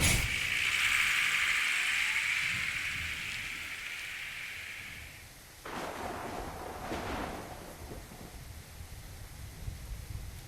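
Steady rain hisses in a pixel-art video game, with a long bright tone fading out partway through, then a muffled rumbling burst and continued pattering without speech.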